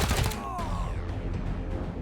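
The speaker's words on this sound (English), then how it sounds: "now we'll switch to his assault rifle and shoot this guy with your assault rifle" An assault rifle firing in the video game Wasteland 3 gives a loud, close burst of rapid shots at the start, then a ringing, rumbling tail that fades under steady background noise.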